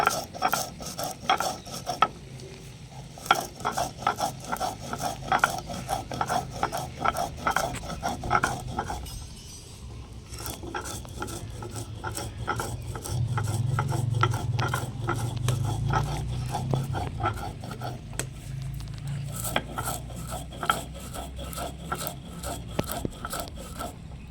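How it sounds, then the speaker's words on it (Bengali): Spices ground by hand for a sweet and sour tomato and jujube pickle, a close, repetitive series of scraping, grinding strokes with rhythmic clicks, pausing briefly around the middle, with no talk. "এবার আমি মশলাগুলো বেটে নেব।"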